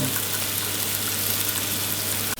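Continuous sizzling of onion frying in a hot pan, an even crackling hiss with a low hum beneath it.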